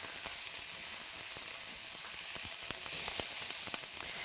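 Brussels sprouts sizzle and crackle in a hot frying pan as they are stirred, a steady close hiss with scattered pops and occasional scraping, no voices.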